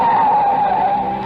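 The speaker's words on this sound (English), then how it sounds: "In my ears was the screeching of brakes, of tires taking a wild curve." Car tires screech loudly through a wild curve as the brakes squeal, one sustained piercing wail lasting over a second, close and alone.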